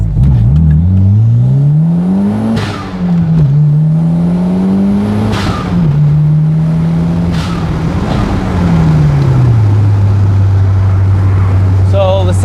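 A classic car accelerates hard through its gears, the engine note climbing and dropping with each shift and the synchros squealing a little in fourth gear. A loud, close cabin drone runs throughout, with sharp thumps at the gear changes.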